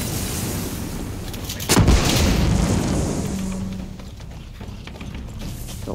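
A Molotov cocktail bursting into flames in the video game Far Cry 6: a sudden heavy whoosh and boom midway, then a roaring, crackling fire bed that gradually settles beneath game ambience.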